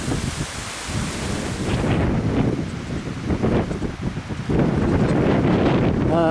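Steady rain pours down on a farm in the UK with heavy gusts of wind buffeting the microphone, the roar growing louder toward the end.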